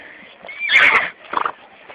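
A human voice imitating a horse neigh, a loud whinnying cry followed by a short fluttering snort, close and alone.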